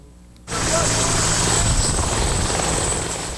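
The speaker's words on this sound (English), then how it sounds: "these Griffin helicopters are crucial" Canadian Forces Griffin military helicopters fly overhead during an exercise, a loud steady rotor drone that starts abruptly after a quiet moment and continues unbroken, close and dominant.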